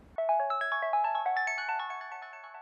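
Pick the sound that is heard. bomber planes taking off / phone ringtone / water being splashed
phone ringtone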